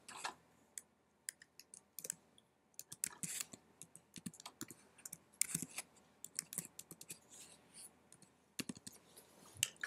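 Typing an email on a computer keyboard, irregular bursts of soft, quiet key clicks with short pauses between runs, close and faint against a near-silent room.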